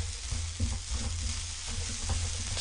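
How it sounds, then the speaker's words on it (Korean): Rice and vegetables being stir-fried over medium heat for Chinese-style egg fried rice, with a continuous soft sizzle and low, irregular scraping of a spatula in the pan, close up and without speech. "같이 볶아줍니다"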